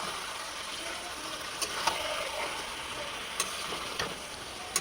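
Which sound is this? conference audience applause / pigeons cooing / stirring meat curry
stirring meat curry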